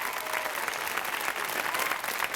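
Steady, dense audience applause at a French television variety show, loud and continuous throughout with no pause and no talk over it.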